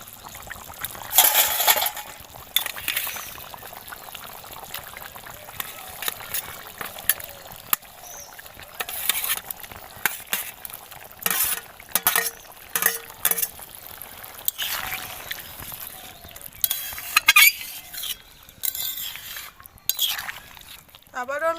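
Fried shrimp and pointed gourd tipped into a pot of boiled potatoes and stirred, with scattered metallic utensil clinks and scrapes against the vessel coming in irregular bursts at close range.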